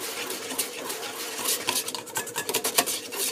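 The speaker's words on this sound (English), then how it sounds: "The only time consuming part is just mashing these 2 ingredients up." Banana and a second ingredient are mashed with cutlery in a bowl for pancake batter, giving close, steady scraping and tapping strokes that grow quicker and more rhythmic toward the end.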